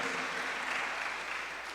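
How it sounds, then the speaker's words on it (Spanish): Church congregation at Zoe church applauding, heard as a faint, steady wash of clapping that carries on evenly without pause. "dele un aplauso al Señor y bendígalo por eso"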